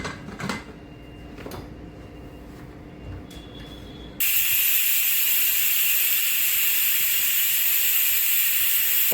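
A pressure cooker boiling potatoes bursts into a loud, sustained whistling hiss of escaping steam that runs steadily to the end, after a quieter stretch of faint kitchen clatter.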